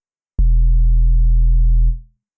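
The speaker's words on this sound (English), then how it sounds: "Compared to a normal sub, if you're thinking, Sam, it doesn't sound that interesting, it's because it is not supposed to." A synthesized sub bass note with compression and limiting sounds as one loud, steady, pure low tone that starts abruptly, holds for about a second and a half, then fades out, with nothing else audible.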